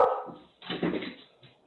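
A dog barking in a short burst of a few yips and barks, fairly close, with a brief pause and then a fainter yelp at the end.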